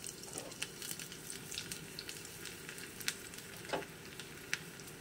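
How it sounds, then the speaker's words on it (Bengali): Chopped garlic frying in oil makes a faint, steady sizzle with scattered small crackles and pops throughout. "ভালো করে ভাজা ভাজা করে নেব"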